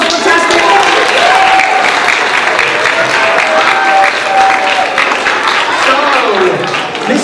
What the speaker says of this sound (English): Give her a round of applause, that was fantastic!